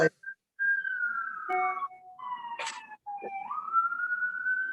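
Rising and falling whistled tones imitate a wailing siren, with sweeping pitch glides and a few short breaks, close and fairly loud.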